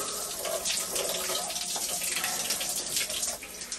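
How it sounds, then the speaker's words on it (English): Cold shower water runs in a steady, unbroken spray, a dense rushing hiss that stays even and close throughout, with no voices. "I always like to finish off with a cold shower."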